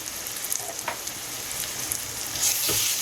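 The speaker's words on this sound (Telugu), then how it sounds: "వన్ టీ స్పూన్ అల్లం వెల్లుల్లి పేస్ట్ వేసి వేయించుకోవాలి" Ginger garlic paste fries in oil over softened onions for a mutton keema curry, a soft steady sizzle close up, with a couple of light scrapes and a louder hiss near the end.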